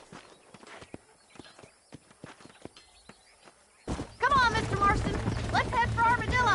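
Horse hooves clip-clopping at a steady walking rhythm in the Red Dead Redemption game, sharp dry clops in the open, followed by speech and music that cover them.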